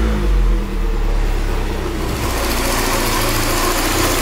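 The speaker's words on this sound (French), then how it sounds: "on va démarrer la voiture et je vais vous faire écouter 2-3 bruits" A Peugeot 406 Coupé, left unused for three years, has its engine started and settles into a loud, steady idle, with the rumbling tone shifting partway through and no voices over it.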